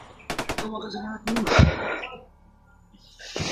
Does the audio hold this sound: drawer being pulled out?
no